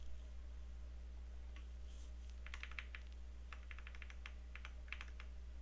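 Computer keyboard arrow keys pressed while positioning a bar in a maze game being built, a few scattered taps then quicker bursts of light clicks over a steady low hum, no talking.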